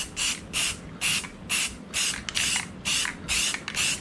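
A paint sprayer hisses out finish onto kitchen cabinets in about eight regular bursts, each roughly a third of a second with short gaps between, loud and close with no talking.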